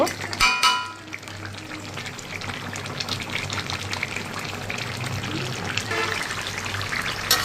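Laying-hen chicken curry stir-fried with spices in a pan: a sharp metallic clang at the start, then a continuous hiss of frying with soft stirring scrapes, close and steady, with no talking.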